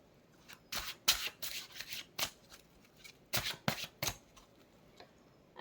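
Tarot cards being shuffled and pulled for a pick-a-card reading: quick bursts of crisp papery riffling and slapping, close up and in irregular clusters separated by short quiet gaps, with no voice.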